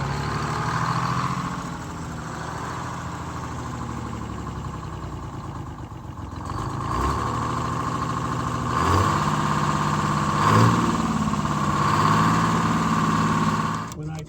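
A Detroit Diesel 671 engine with new injectors runs at raised speed and fails to drop back to idle, giving a steady, rough mid-pitched drone that swells louder about halfway through, close by, with talk over it.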